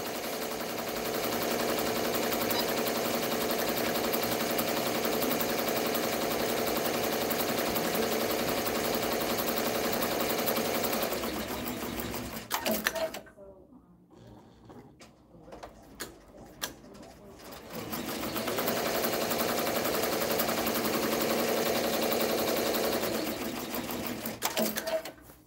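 An embroidery machine stitching at 700 stitches per minute gives a fast, even mechanical clatter that stops for a couple of seconds midway, leaving quieter handling noises, then resumes at full pace.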